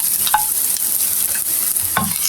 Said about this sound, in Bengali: অনেকটাই দেখেন ব্রাউন হয়ে গেছে আর একটু ভেজে নিব হালকা